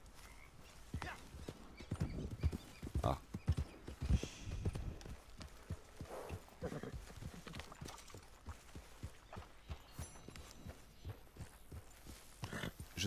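Horse hooves clip-clop steadily in Red Dead Online, a fast even rhythm of close, distinct hoofbeats running throughout, with a brief vocal sound early on.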